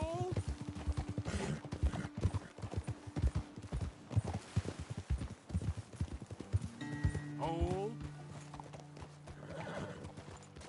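Horses in a video game gallop with steady clip-clop hoofbeats and let out loud neighs and whinnies near the end, while a voice calls out briefly over them.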